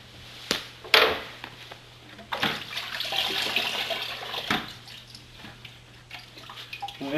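Water runs and splashes while an MPV filter strainer, the last filter ahead of a membrane, is rinsed clean under a tap, with a sharp splash near the start and a steady broadband rush of flowing water after it, with no talking.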